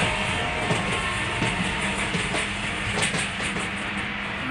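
A train passes beneath the Padma Bridge in a bus simulator video game, heard as a steady, loud rolling rumble with faint rhythmic clacks and hiss that run through the whole stretch with no talking.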